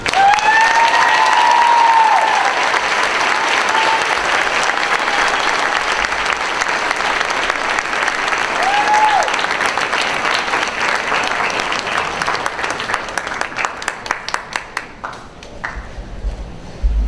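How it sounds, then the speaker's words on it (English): Round of applause for graduating students at a 5th grade graduation: sustained loud clapping from a crowd that carries on for a long stretch, then thins into scattered claps, with brief whistles near the start. "I'd like to give each of them a round of applause"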